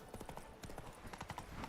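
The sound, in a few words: horse hooves while riding, from video game Witcher 3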